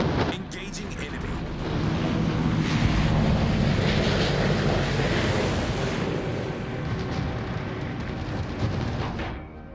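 Enemy gunfire in World of Warships with heavy naval artillery booms and explosions rolling over a dense, loud battle din, continuous for several seconds with aircraft engine drone mixed in.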